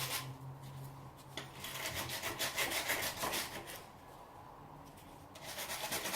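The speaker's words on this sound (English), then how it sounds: "Just give them a wire brush before they come off." Wire brush scrubbing 27 years of oil, dirt and grease off old Classic Mini parts, a steady rasping scrape in repeated strokes that fades in the middle and picks up again, close and fairly quiet.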